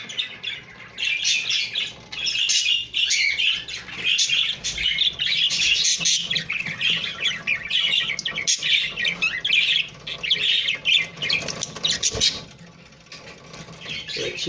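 Jumbo budgerigars squawking during mating, a dense, continuous run of harsh chirps and squawks close by, with brief pauses and faint background shuffling and no one talking.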